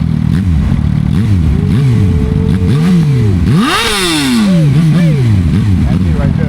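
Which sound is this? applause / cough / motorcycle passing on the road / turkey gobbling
motorcycle passing on the road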